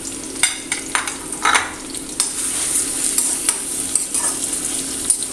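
Sliced onions frying in hot ghee for prawn biryani make a steady, close sizzle, broken by scattered scrapes and taps of a spoon stirring them in the pan.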